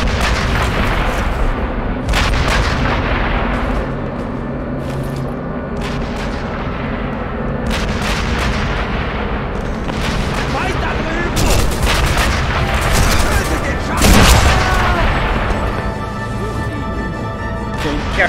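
Gunfire and explosions in the video game Sniper Elite V2 Remastered, including a grenade blast, with repeated sharp cracks and booms over continuous loud battle noise. A voice speaks at times.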